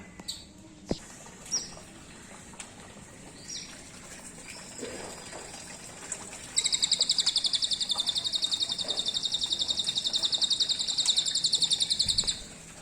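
A magpie-robin (murai) sings a long, loud rapid trilling phrase near the microphone after scattered shorter chirps and calls, with no talking.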